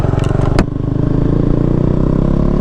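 A KTM motorcycle, RC 390 or Duke 390, riding on a road in third gear: a loud, steady engine drone with a brief clatter near the start, the pitch holding level throughout.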